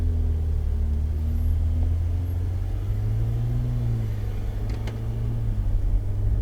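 A Ferrari 488 GTB pulls onto the race track at Dominion Raceway, its engine a steady low rumble with gently rising and falling pitch, heard from inside the car.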